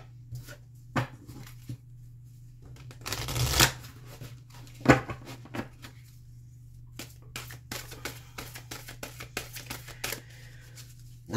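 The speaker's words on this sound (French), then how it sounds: "je vais aller chercher une carte avec le tarot des licornes" Unicorn tarot cards being shuffled by hand, a close run of crisp riffling and flicking with two louder bursts of card slaps, over a steady low hum with no talking.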